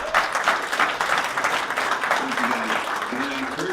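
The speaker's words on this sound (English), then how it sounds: "Can you guys please give him a round of applause?" Dense, continuous audience applause fills a hall at a real estate talk, steady and even throughout, with a voice faintly audible near the end.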